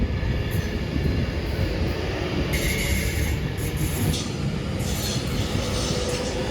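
A Class 390 electric train, unit 390-039, pulls away from Stoke-on-Trent station toward Manchester Piccadilly with a steady, close rumble of wheels and traction that holds for the whole stretch, with no voices.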